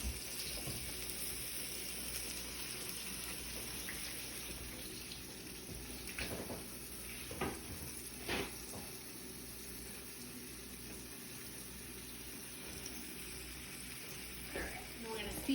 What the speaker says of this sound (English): you're going to hear some sizzle, sizzle, pop, pop